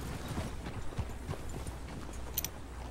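Hooves of wild horses in a horse-taming farm video game, soft irregular clip-clop steps in a quiet outdoor setting, moderately near and faint, with no voices.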